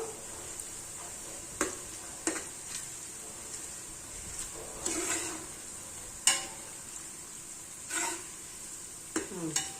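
Onions fry in a pan for flat beans baath, a steady sizzle running underneath while a spoon scrapes and stirs in occasional bursts, close up and moderately quiet.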